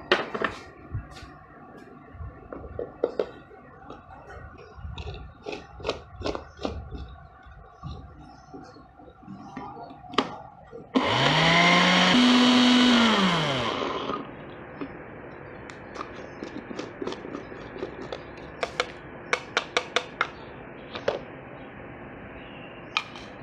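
An electric grinder whirs for about three seconds midway, grinding homemade pulao masala spices such as cardamom, bay leaves, coriander and dried mint, with kitchen clicks and handling taps before and after.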